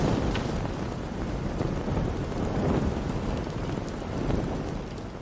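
AI-generated mountain thunderstorm at night, with steady rain and low rumbling that hold at an even, full level throughout and carry no voices.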